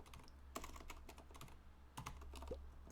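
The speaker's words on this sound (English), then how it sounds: "just typing into the sheet" Someone types on a computer keyboard in irregular bursts of quick, faint clicking keystrokes, with brief pauses between runs.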